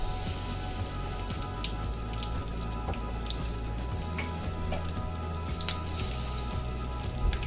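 Fish frying in a pan, a continuous close crackling sizzle with scattered pops and spits over a low steady background hum.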